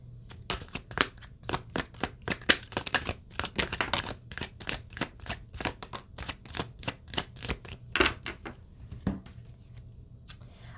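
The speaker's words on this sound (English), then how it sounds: "Let me just get one more shuffle." Tarot cards shuffled by hand in a rapid run of crisp, papery riffles and flicks, close and fairly loud, continuing for about ten seconds with no talking.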